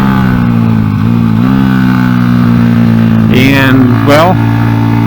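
A Honda NSF100 motorcycle fitted with a salvaged XR100 engine and an aftermarket carburetor runs steadily up close, a loud, constant idle that rises into two quick throttle blips near the end.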